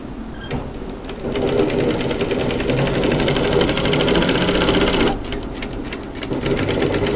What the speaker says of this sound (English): So all we need to do now is just to edge stitch there.